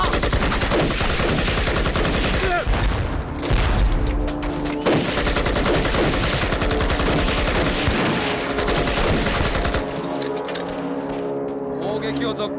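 Dense gunfire and machine-gun bursts roar through a war film battle scene, loud and continuous for most of the span, mixed with shouted voices before thinning out near the end.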